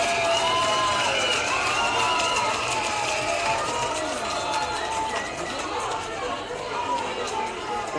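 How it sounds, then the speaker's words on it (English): Crowd noise at an under-19 national boxing final in Australia, a steady roar of chatter and cheering that fills the whole stretch at an even, loud level, with no clear peaks or pauses. "Crowd enjoying it."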